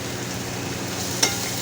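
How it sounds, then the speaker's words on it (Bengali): Chopped carrots and capsicum sizzling and being stirred in hot oil with fried mustard seeds and curry leaves, a soft steady crackle with one brief sharp clink of the utensil near the end. "গাজর ক্যাপসিকামগুলোকে ভালো করে নাড়াচাড়া করেছি তেলের মধ্যে করে নিয়ে"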